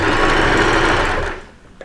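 A sewing machine stitches along a knit T-shirt neckline in a steady, loud, close whirring run that stops abruptly after about 1.3 seconds, with a brief faint click afterward.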